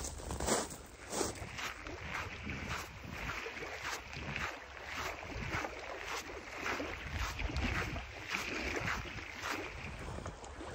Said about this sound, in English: I've still got about a mile and a half walking in this loose gravel